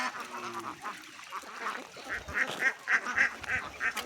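A flock of ducks at a large duck farm and hatchery, repeated nasal quacks in quick bursts, close and loud over a busy background, with a voice briefly underneath at the start.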